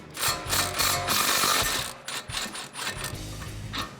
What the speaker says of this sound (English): we're going to be using an 18mm socket